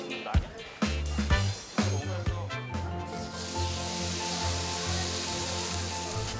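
Korean hanwoo beef sizzles on a restaurant grill, where diners cook meat they bought themselves. The steady, loud hiss rises after a few seconds of music-like sound and carries on to the end.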